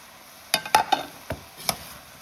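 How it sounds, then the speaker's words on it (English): Turmeric, chili powder, coriander, garam masala, cumin and chole masala being stirred in a hot pan for a lauki chana dal curry, five or six scraping clacks of the spoon over a soft sizzle. "Quickly mix everything together"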